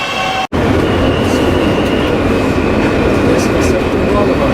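NYC subway train on the E line running along the Archer Avenue route, a loud steady rumble of wheels and car noise throughout, with a brief cutout near the start and a faint high whine above the roar.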